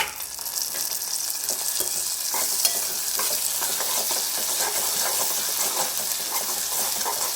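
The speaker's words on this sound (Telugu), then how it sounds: "నేను వేగించుకుంటున్నాను ఆనియన్స్ మంచిగా వేగాలి" Onions fry in a pan for an egg curry, giving a dense, continuous sizzle with rapid scraping and stirring strokes that stay close and loud throughout.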